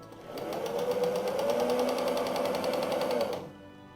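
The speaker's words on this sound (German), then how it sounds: "wir nähen ganz genau durch das von den beiden Stofflagen gebildete Dreieck" A sewing machine stitches through two layers of patchwork fabric with a fast, even needle rattle and motor hum, close and continuous for about three seconds before stopping.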